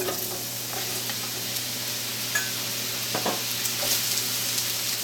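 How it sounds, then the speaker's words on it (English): Mushrooms sauté in olive oil in a skillet for a pork Wellington mushroom sauce, giving a steady close-up sizzle with occasional stirring scrapes and small pops. "We're going to start by sautéing our mushrooms until they're tender."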